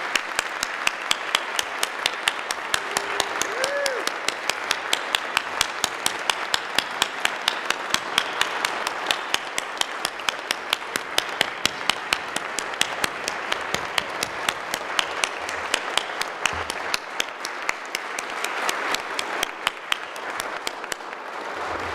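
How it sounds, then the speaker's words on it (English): Sustained audience applause at a medal ceremony honoring animals in war and peace, a steady wash of many hands clapping with some sharp individual claps standing out near the microphone. "Can we have another round of applause for all of our brave heroes here tonight?"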